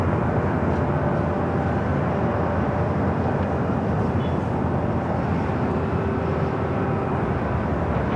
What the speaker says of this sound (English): Air France Flight 22 coming in from Paris.